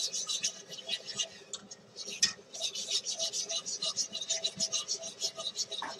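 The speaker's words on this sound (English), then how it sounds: "Whisk this to smooth." Evaporated milk is whisked smooth in a bowl in a home kitchen, a quiet, steady scratchy swishing with rapid rhythmic strokes, close and soft, with no talking.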